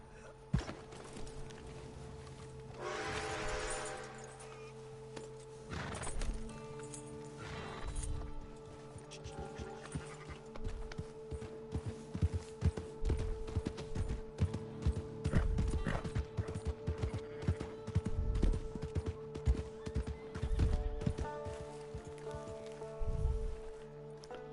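A horse in Red Dead Online whinnies early on, then hooves clip-clop in an uneven run of close thuds over a steady hum of game ambience, with a few louder knocks toward the end.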